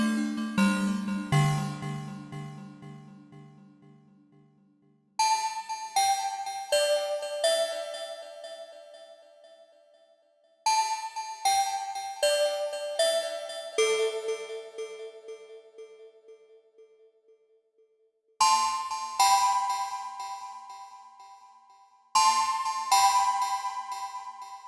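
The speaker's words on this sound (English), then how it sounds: "Some rusty sounding bells now." Rusty-sounding bell patch on an Arturia Synclavier V software synthesizer, with metallic struck notes played in quick clusters, each phrase ringing and slowly decaying before the next group of strikes.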